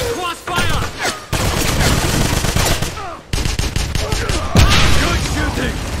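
Intense crossfire in the game Wolfenstein, with rapid machine-gun bursts and overlapping gunshots rattling almost continuously at close range, broken by brief pauses and a heavy impact, while voices shout over the fighting.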